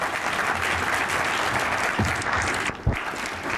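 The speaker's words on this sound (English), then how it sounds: "can we give all of the recipients another humongous round of applause" Sustained applause from a luncheon crowd at a drug court 20th anniversary awards ceremony, dense continuous clapping filling the room, loud and close, tapering briefly near the end.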